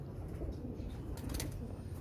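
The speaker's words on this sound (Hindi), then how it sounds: "आज आपको दिखाते हैं ये उड़ने वाले कबूतर" Flying pigeons coo faintly in Lahore, soft low calls over a steady outdoor rumble, distant and brief.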